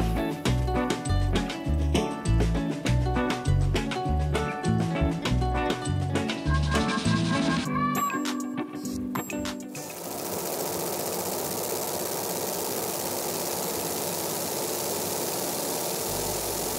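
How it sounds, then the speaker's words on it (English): A Cloudray QS-50 50W fiber laser engraving a plaque makes a rhythmic, pulsing mechanical pattern at first. It then gives way to a steady, even hiss of the exhaust fan running alone. "turn that exhaust on, and hit the start button"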